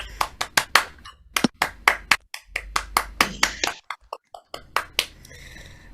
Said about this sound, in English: give Dan and Robert just a big round of applause